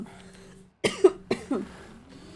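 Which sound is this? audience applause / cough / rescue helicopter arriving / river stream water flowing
cough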